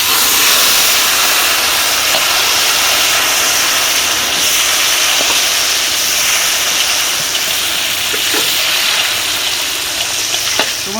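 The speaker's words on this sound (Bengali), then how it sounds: "আমাদের তেলটা গরম হয়ে গেছে, এখন পটল ভেজে নেব।" Pointed gourd (potol) frying in hot oil, a loud, steady hiss of sizzling that fills the whole stretch with a few faint clicks, no voices.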